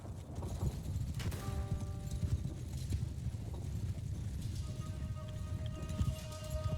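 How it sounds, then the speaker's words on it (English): Mounted horse archers galloping across a battlefield in the samurai game Shokuho, a steady, fairly quiet drumming of many hooves with the odd whinny and clatter of gear throughout. "Horse archers."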